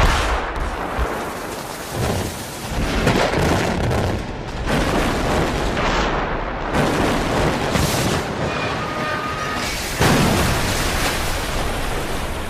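A massive rumbling blast from the explosive demolition of a steel bridge rolls on for several seconds, with repeated heavy booms and crackling debris noise, loud and sustained.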